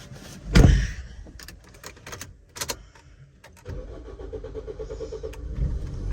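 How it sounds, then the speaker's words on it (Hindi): Car door opening and closing with thumps and clicks, then the engine cranking and starting into a steady idle, heard close with no talk. "चलो भाई गाड़ी ओपन हो जाओ"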